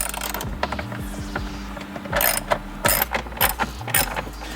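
A ratchet loosens the 10mm bolts on the black panel under the glove compartment of a BMW F30, with short bursts of rapid, close mechanical clicking separated by brief pauses.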